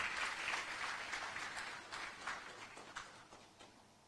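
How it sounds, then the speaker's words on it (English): Audience applause at a trade conference, a steady wash of clapping that fades gradually as it welcomes a speaker to the stage, heard from some distance. "We can welcome him with a clap"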